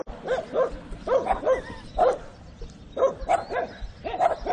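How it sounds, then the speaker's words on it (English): Several dogs bark repeatedly in short clustered bursts, fairly close, with brief gaps between volleys. "Your dogs are loud too."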